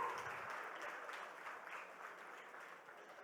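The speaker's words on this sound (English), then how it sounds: "A round of applause for her, please" An audience at a startup summit applauds the chief guest, Parul Gulati, with fairly faint, even crowd clapping that stays steady and fades slightly at the end.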